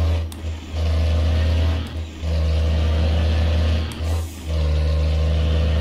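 A truck engine in a truck driving game, a Ford Cargo or Mercedes-Benz 1620, revving hard and high in long roaring pulls broken by brief drops between gear changes, loud and close with no talk.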